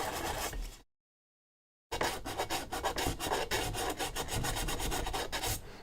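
Steel wool scrubs against a vintage metal watercolor tin to strip its paint, giving a loud rhythmic rasping of quick back-and-forth strokes after a brief pause.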